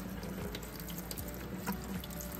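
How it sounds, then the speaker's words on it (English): Tap water runs steadily over tomato seeds held in a bag, a continuous splashing rush with small drips, close and at moderate level with no talking. "I'm just gonna run some water through them"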